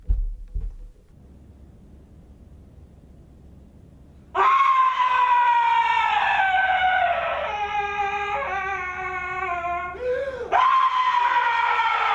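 A man screams at full voice during a live performance of an art piece, a long, loud, strained cry with shifting pitch that breaks briefly and resumes, following several seconds of low room hiss in a lo-fi recording.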